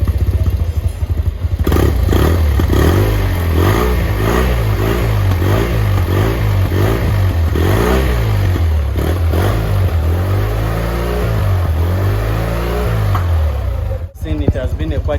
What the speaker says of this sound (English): The bike is up and running.